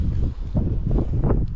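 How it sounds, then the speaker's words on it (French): Wind rises over an open fishing boat on the water during a pike fishing season opener, heavy gusty buffeting rumbles against the microphone in loud, uneven surges with no voices. "Le vent s'est levé."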